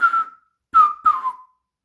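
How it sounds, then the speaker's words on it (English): A whistle sounds three short, clear tones, close and alone: one brief note, a pause, then two more in quick succession. "He whistled"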